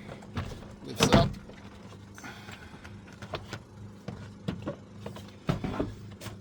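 A door trim panel on a Toyota Hilux N70 pried and lifted off, giving a loud clunking pop of releasing clips, then scattered lighter plastic clicks and a second firm thunk near the end.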